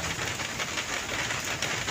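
Steady rain pouring down, a dense continuous hiss of drops hitting surfaces nearby, with no voices.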